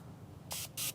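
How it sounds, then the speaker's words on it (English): An aerosol spray can hisses under a vehicle hood onto the hood liner in two short, close bursts over a low background hum. "I'm going to go ahead and give the liner under the hood a little bit of spray too."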